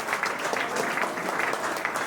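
An audience at an olympiad award ceremony applauds a silver medal winner with steady, many-handed clapping that holds an even, moderate level from start to finish.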